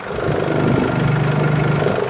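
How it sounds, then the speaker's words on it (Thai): A 2015 Mercedes-Benz E300 with a diesel engine idles steadily and smoothly, a close, even hum with a low mechanical rumble that holds at a constant level with no revving. "เดี๋ยวมาฟังเสียงเครื่องกันนะเพื่อนๆครับ"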